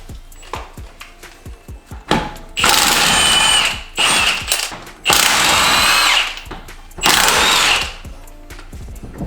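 Power tool or impact wrench spinning off the spare tire mount bolts on a Mercedes-Benz G500 W463, three long loud bursts of whirring after a run of sharp clicks and clanks of handling the tool.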